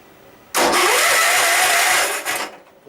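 A Yard Machines riding mower engine cranks and catches, then runs loud and steady for about two seconds before dropping off, with no voices over it.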